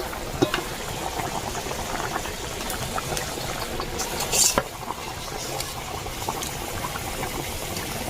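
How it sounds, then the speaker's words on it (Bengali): Fish curry with gourd bubbles and simmers in a pot, a steady close hiss of boiling liquid with a brief louder burst midway and no talking. "এর সাইডে তরকারিটা ফুটছে"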